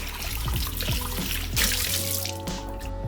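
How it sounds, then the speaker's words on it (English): Water rinsing out a blender, a close running trickle with sloshing and small splashes, broken by a few knocks and a brief louder gush midway. "Give this a little rinse."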